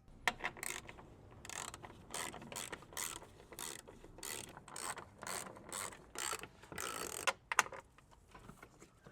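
Hand ratchet turning a fastener under a Mercedes S65 AMG during an oil change, a close, steady run of rapid clicking strokes in repeated bursts with brief pauses between them.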